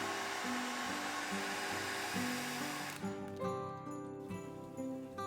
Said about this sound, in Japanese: 画面もドライヤーを使ってしっかりと乾燥させます。